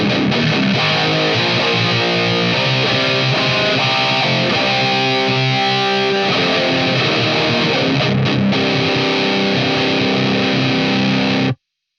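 Electric guitar played through a Twinote Boogie distortion pedal, a loud, thick overdriven tone with sustained chords and riffs running continuously for about eleven seconds before stopping abruptly.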